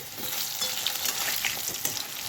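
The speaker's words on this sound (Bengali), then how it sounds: "এই আলুটা ভাজা হচ্ছে" Potatoes frying in a kadai (wok) of hot oil and fat: a dense, steady sizzle with soft spattering crackles, close and continuous, with no talk.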